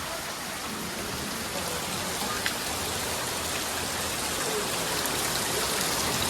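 Heavy monsoon rain pours down in the Konkan, a dense, unbroken hiss of water that stays loud and even throughout, with no voices.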